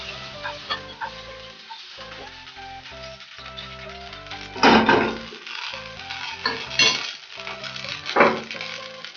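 Metal utensils clink and scrape against a pan as cooked chicken tikka pieces are moved onto a plate, several sharp bursts of clatter over a soft background hum.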